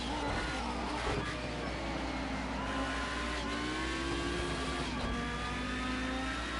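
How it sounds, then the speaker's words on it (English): A 1990s Audi with a turbo engine in the racing game Project CARS 2, droning and revving steadily for several seconds with rising and falling engine tones and faint turbo and wastegate noise. "The sound is incredible, especially of the turbos pulling off."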